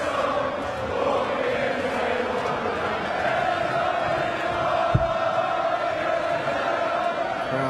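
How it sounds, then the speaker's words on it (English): A packed darts crowd sings a sustained, droning chant for Phil Taylor at the 2013 PDC World Championship semi-final against Raymond van Barneveld. The loud arena singing continues throughout, with one brief thump near the end. "Crowd singing. There's only one Phil Taylor."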